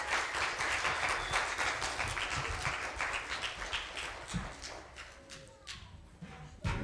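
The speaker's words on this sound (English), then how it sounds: "Everybody give a round of applause for AWANA Commander Richard." Congregation applause during a church Sunday school celebration, a dense, faint patter of many hands clapping steadily before tapering off toward the end.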